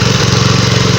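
A small engine on a herbicide sprayer used on calamansi runs loud and close with a steady, rapid throbbing putter, alone without voices.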